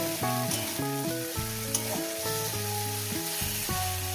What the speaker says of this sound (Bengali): ভালো করে সুন্দর করে এক থেকে দু মিনিট এটাকে ফ্রাই করে নেব